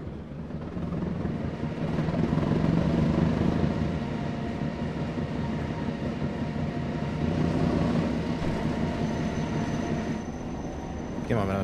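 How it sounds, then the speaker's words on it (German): A small shunting locomotive accelerates in the Train Sim World 3 rail simulator, a steady, close, droning engine rumble with a faint rising whine, sustained throughout with little variation. "So, kleine Lok, gib Gas."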